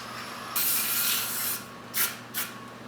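Carb cleaner for electronics hisses from an aerosol can in one long burst, followed by two short sharp sprays, close and fairly loud in a quiet workshop with a steady low hum behind.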